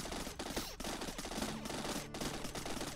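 Enemy gunfire in the vehicle-building video game Terra Tech: dense bursts of rapid machine-gun shots in quick succession, fairly close and steady over a few seconds, separated by brief gaps.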